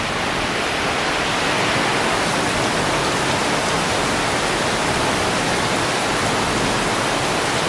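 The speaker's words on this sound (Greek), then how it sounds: "Ρίχνει μια βροχή." Heavy rain pours down outside on an evening with flooded streets, a dense, steady, loud hiss of falling water filling the scene with no voices.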